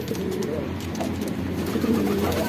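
A pigeon coos softly in low, rolling murmurs, with steady background noise around it.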